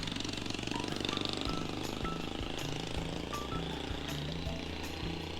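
A Kawasaki Ninja 1000SX litre-class motorcycle engine runs steadily up close, a loud continuous mechanical rumble with rapid rhythmic pulsing and no speech over it.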